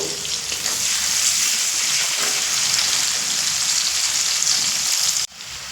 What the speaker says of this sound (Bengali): তো এই তেলের মধ্যে আমি পেঁয়াজের বেরেস্তা করে নেব মিডিয়াম ফ্লেম করেই কিন্তু বেরেস্তাটা করব